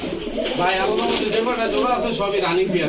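Jhakgola pigeons cooing in a loft among breeding pairs: repeated throaty, warbling coos rolling continuously and close, with someone talking over them.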